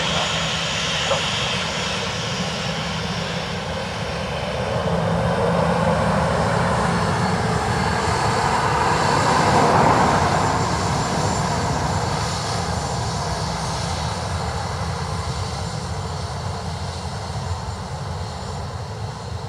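An ATR turboprop from Newcastle at Dublin Airport drones steadily, the engine sound swelling gradually to a peak near the middle and then easing back, loud and continuous with no talk.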